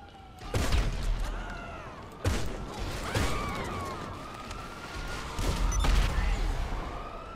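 Gunfire in GTA 5 Online: a few sharp, loud shot bursts spaced seconds apart, with police siren wails sweeping up and down between them and a busy street-combat din.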